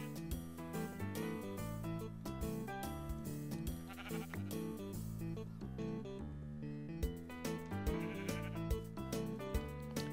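Sheep in the Minecraft video game bleat repeatedly, many overlapping calls from a large flock rising over dense, steady game music.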